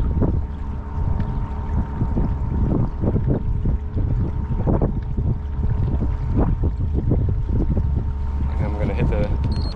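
A small trolling motor runs on a kayak, a steady low drone under splashing water and wind buffeting the microphone.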